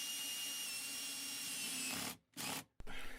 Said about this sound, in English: At that point, I just drill and tighten.